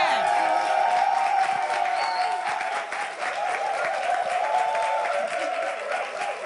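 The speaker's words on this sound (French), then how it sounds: "vous allez vous lever et vous allez applaudir comme il se doit" Concert crowd standing to applaud and cheer as a performer arrives on stage, sustained dense clapping with scattered shouts and a steady musical tone underneath.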